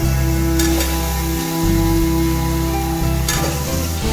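Boiled wheat-flour chilli balls go into a pan of masala and fry with a steady, close sizzle and a constant background hum. A couple of faint stirring scrapes break through the sizzle, and no one speaks.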